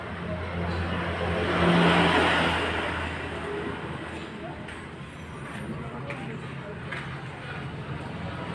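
A Suzuki RC100 motorcycle from 2002 with its original exhaust idles steadily, rising to a swelling rev about two seconds in and then settling back to an even low rumble.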